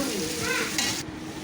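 Loitta (Bombay duck) fish fries in hot oil, a close, loud crackling sizzle with stirring scrapes that suddenly drops to a softer hiss partway through.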